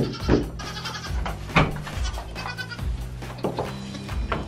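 Goats bleat repeatedly at close range, several loud calls spaced across the stretch, with some rustling and movement between them.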